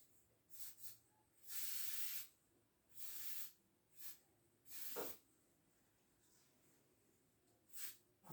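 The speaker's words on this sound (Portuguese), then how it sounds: "agora o esboço que a gente enxergou primeiro, a gente vai reproduzir com o spray" An aerosol spray paint can hisses as it lays down a graffiti character, with a series of short puffs and longer sustained bursts separated by quiet pauses, faint and close.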